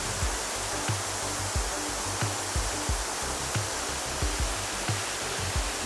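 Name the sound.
water rushing at a ruined water mill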